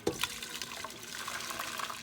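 Cooked peas and their cooking liquid poured from one pot into a rice pot, a steady close splashing pour of liquid that runs throughout with a sharper slosh at the start.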